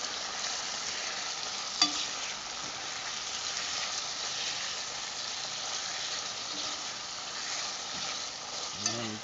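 Saltfish frying in a pan with ackee for a Jamaican breakfast, a steady close sizzle throughout with occasional stirring scrapes and clinks.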